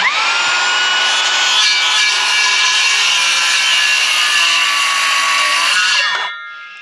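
Bosch 18V cordless saw cutting wood at an angle: a steady, loud, close whining buzz of blade through timber for about six seconds, then the motor winds down.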